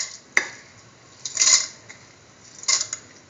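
Washed, soaked rice goes into a metal pressure cooker and is mixed with a utensil, giving a sharp clink, then two scraping, rattling bursts of stirring against the pot, close and moderately loud.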